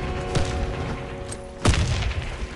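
Two short, booming bursts go off in Warface clan PvP on the Bridge map, an early one and a louder grenade blast about halfway through. A steady tonal hum sits underneath.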